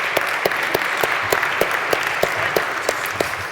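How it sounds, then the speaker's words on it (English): Conference audience applauding a panel team, a steady patter of many clapping hands that runs briefly and evenly without voices. "Let's have a round of applause for our other team."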